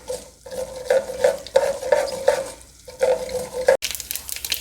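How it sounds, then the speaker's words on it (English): Mustard seeds spluttering in hot oil in a pan while making murmura chivda, a loud close sizzle broken by a series of sharp rhythmic pops and crackles, with a sudden brighter hiss near the end. "The oil is hot, so it will not take a lot of time for mustard seeds to splutter."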